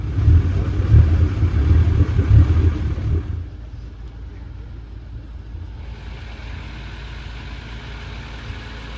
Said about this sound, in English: these engines sure sound like they're running strong